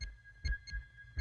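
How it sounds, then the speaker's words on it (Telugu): Rapid heartbeat sound effect from a Telugu movie scene, Evadaithe Nakenti, depicting a racing heart of about 200 beats per minute: four or five deep, thumping pulses, fairly quiet and heard alone. "నిమిషానికి 200 సార్లు కొట్టుకుంటుంది గుండె"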